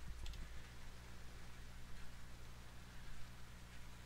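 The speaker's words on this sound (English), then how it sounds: "That's a lot of rain." Rain falls steadily in The Walking Dead: 400 Days video game, a soft, even hiss held low and constant, with a low game hum beneath and a brief click at the start.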